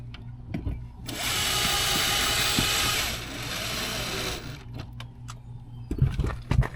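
A power drill runs a screw into an RV wall or cabinet during a mod install, whirring steadily for about three seconds, then easing off, followed by scattered clicks and handling knocks nearby.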